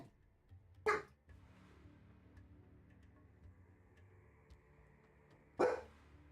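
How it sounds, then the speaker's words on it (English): Two sharp dog barks ring out late at night, several seconds apart and somewhat distant, over a quiet low hum. "Dogs don't usually bark this late."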